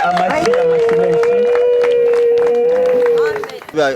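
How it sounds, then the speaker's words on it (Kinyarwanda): Guests at a wedding clap in quick rhythmic bursts beneath a long, sustained vocal cry, with voices mixed in and the sound cutting off near the end. "Amashyi"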